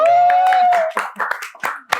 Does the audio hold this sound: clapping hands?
yes